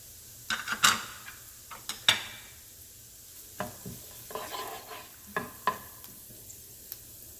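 Chopped scallion whites sizzle in a pan while a utensil scrapes and stirs them, producing a series of sharp, irregular clicks and scrapes over a soft, steady frying hiss.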